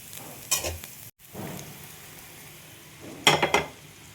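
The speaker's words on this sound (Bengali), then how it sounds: "আলুগুলো ভাজা হচ্ছে।" Potatoes for aloo dum fry in a pan with a low, constant sizzle, broken by two sharp bursts of stirring and scraping, one near the start and one near the end.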